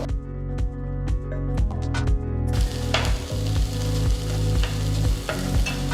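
Onion and green capsicum sizzle loudly in butter in a hot pan, with a constant crackling hiss and repeated clinks and scrapes of stirring against the pan.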